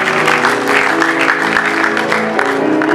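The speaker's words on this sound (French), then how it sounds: "Est-ce qu'on peut acclamer pour le roi du roi?" A church congregation applauding a pastor's call to cheer, heard as steady, dense, loud clapping from a crowd in a reverberant hall.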